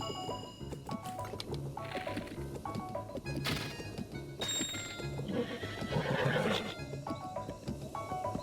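A horse in the video game Breath of the Wild neighs and whinnies loudly while hooves clip-clop steadily beneath, over layered game music and effects for several seconds.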